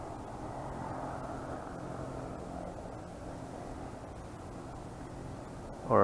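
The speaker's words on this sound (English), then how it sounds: "Airplane just about to take off out there." An airplane at an airport near Victoria on Vancouver Island, taking off or taxiing, heard from a distance as a steady, faint broadband jet roar held throughout, with a brief louder sound at the very end.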